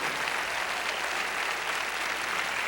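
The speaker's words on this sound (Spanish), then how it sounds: "le diera un fuerte aplauso a estos grandes hombres de Dios en el día de hoy" A church congregation applauds in a continuous, dense roar of clapping that holds steady throughout, fairly far off with no clear talk above it.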